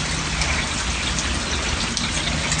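Steady rain falls outside, a dense, even hiss of drops hitting surfaces that stays loud and unbroken, with no voices over it.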